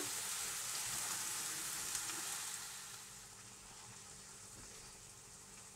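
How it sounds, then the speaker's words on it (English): Peppers for Moroccan taktouka sizzle steadily in a hot pan on low heat, a continuous bright frying hiss that eases slightly partway through, with no talking. "So we're going to stir that around for 5 minutes"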